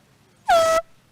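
Air horn blast signaling three minutes before a hydroplane boat race start: a single loud, short honk of about a third of a second, heard alone over faint background noise.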